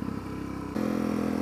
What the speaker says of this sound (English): Here's an example of engine braking going down a hill, just rolling.